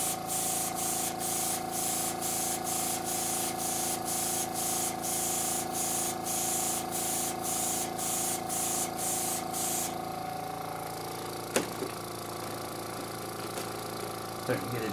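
An airbrush spray-painting a model plane hisses steadily with rapid rhythmic pulsing, then the spray cuts out, leaving a low hum and a couple of sharp clicks.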